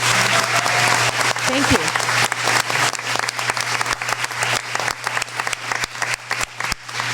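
Audience applause at a community gathering Q&A, dense sustained clapping throughout with a brief spoken thanks over it.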